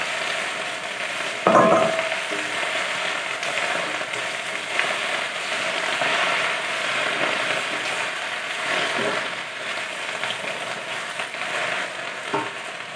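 Chinese cabbage frying and being stirred in a pan, a steady close sizzle with occasional scraping of the utensil, no voices.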